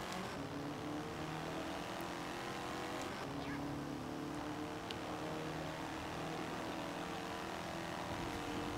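A car racing in Forza Horizon 4 on a custom circuit, its game engine droning steadily with rising and falling pitch throughout, a constant mid-level roar with a few faint clicks over it.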